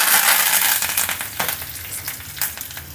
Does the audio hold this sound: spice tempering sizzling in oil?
yes